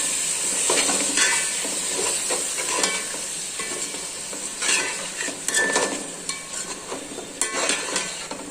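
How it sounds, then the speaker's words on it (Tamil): Continuous sizzling and hissing from a hot pan as yogurt is stirred into cooking mutton, with intermittent scraping and stirring strokes, close by. "இந்த தயிர் சேர்ந்து கலந்துக்கலாம்"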